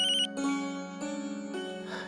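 A phone rings with a bright repeating electronic ringtone, close and fairly loud, pulsing in short tonal phrases.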